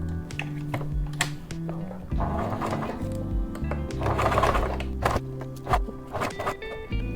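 A sewing machine fitted with a zipper foot runs in short bursts of whirring stitching, starting and stopping, close by with faint clicks between runs.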